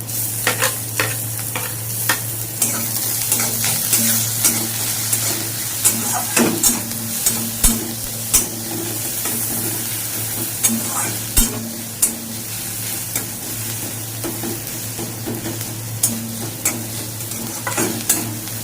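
Chopped garlic and ginger, with onion already browning, sizzle steadily in hot oil for a Bengali bata fish curry while a spatula scrapes and knocks the pan in irregular strokes, close and without talk.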